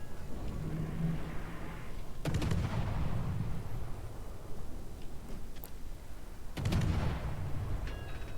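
Naval guns firing in a warship video game, two heavy booming salvos several seconds apart with rumbling decay, over continuous engine-like background noise.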